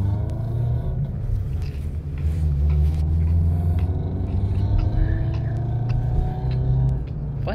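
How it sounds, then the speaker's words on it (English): Loud, steady low engine rumble from inside a moving car, a continuous droning roar with faint background noise. "Why is the car so loud?"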